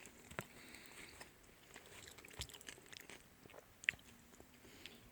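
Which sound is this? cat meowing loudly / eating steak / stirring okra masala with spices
eating steak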